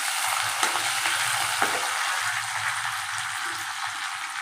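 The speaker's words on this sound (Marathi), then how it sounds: "आपण तेल ठेवलं तापत राई टाकलेली आहे जिरं टाकलं राई टाकली मिरची टाकलेली आहे बघा कढीपत्ता पण टाकलेला आहे" Mustard seeds, cumin, chilli and curry leaves sizzle steadily in hot oil for a Vidarbha-style dahi kadhi, a close, dense frying hiss with a few sharp pops and crackles throughout.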